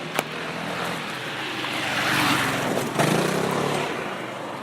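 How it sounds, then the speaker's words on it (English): A three-wheeler motor scooter drives past on a road by a canal, its engine rising to a close, loud pass and then fading, with a steady traffic-like rumble underneath. "A three-wheeler motor scooter."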